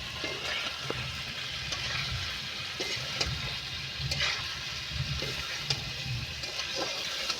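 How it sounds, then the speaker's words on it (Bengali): Potatoes being stirred and fried for a fish curry, a steady close sizzle with soft repeated scrapes and clinks of a spatula against the pan, continuing without talk. "এইভাবে নেড়ে চেড়ে আমি আলুটা ভালো করে কষাতে থাকবো।"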